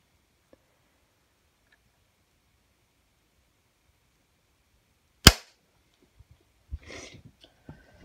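A single sharp dry-fire trigger click from a Ruger American rifle chambered in 7.62x39, snapping out once after long silence, followed by faint handling rustles and small taps.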